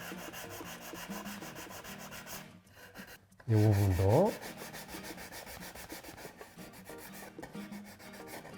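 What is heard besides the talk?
sanding wood with sandpaper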